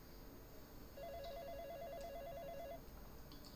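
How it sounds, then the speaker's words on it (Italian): A telephone rings in a video game, a steady repeating electronic trill lasting a few seconds over a quiet ambient background, with faint chimes above it. "Sei troppo stanca per prendere il telefono."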